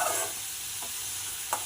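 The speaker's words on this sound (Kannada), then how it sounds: "ಎಣ್ಣೆಯಲ್ಲಿ ಫ್ರೈ ಮಾಡ್ಕೋಬೇಕು" Onion fries in oil for an aloo paratha filling, a soft, steady sizzle at a modest level, punctuated by two brief stirring clicks.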